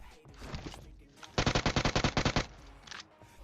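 Rapid burst of automatic gunfire in PUBG Mobile, about a dozen sharp evenly spaced shots fired in quick succession, loud and close, with game ambience before and after.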